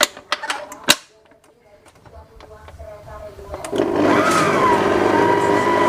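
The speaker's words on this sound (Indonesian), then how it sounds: "Kita mixer." Electric mixer whirring through lapis legit cake batter with flour and milk powder, starting after a few sharp knocks and clatters, then rising into a steady, close mechanical drone for the last seconds.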